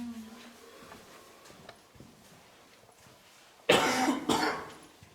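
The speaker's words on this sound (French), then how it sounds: "Tu tousses" A person coughs while exploring an old quarry, a loud burst of two or three harsh coughs near the end after a quieter stretch of faint shuffling and background noise.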